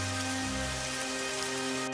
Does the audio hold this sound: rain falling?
yes